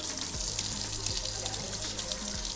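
Running water rinsing hair color out of hair at a salon shampoo sink, a steady close splashing and trickling stream that continues throughout with no talk.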